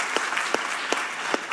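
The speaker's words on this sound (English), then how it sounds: "Can we all give a round of applause also to this young, fine gentleman?" An audience at a Techcrunch tech event claps steadily for a moment, a dense close round of applause with a few sharper individual claps standing out.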